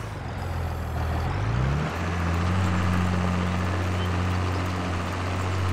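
A tractor in Farming Simulator 22 drives with a loud, steady engine drone that rises in pitch after a brief rev and then holds constant, close and continuous with no voices.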